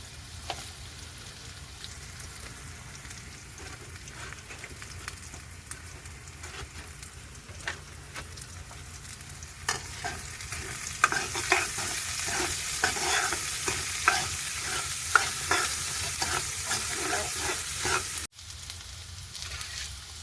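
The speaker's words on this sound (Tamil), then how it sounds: "பச்சை மிளகாயையும் இந்த டைம்லேயே நாங்கள் சேர்த்து தாளித்து விடலாம்" Green chillies sizzle in hot oil as they are tempered for a Sri Lankan varai, a steady crackling fry with stirring scrapes that grows louder partway through, then cuts off briefly near the end.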